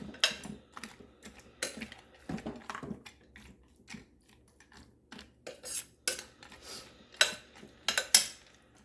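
A utensil scrapes and clinks against the crock of a slow cooker while pasta noodles are stirred into sauce, irregular close clattering taps in short bursts with quiet gaps.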